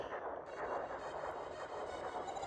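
Continuous rapid gunfire in the Star Fox 2 video game as bases come under attack, a dense, steady barrage of retro-style shots with no pauses.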